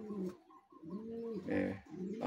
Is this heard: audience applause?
no